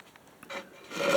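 A file scrapes in short, faint rasping strokes as someone thins the silos of a model Walthers grain elevator, the strokes growing louder toward the end.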